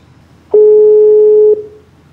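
A steady, loud telephone tone sounds for about a second with a sharp start and stop, alone against near silence, as a prank call is placed.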